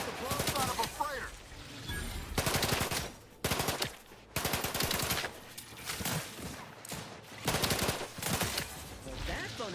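A phonotron weapon firing in Outer Worlds 2, heard as repeated rapid bursts of loud, dense shots separated by short pauses, close and continuous over the stretch.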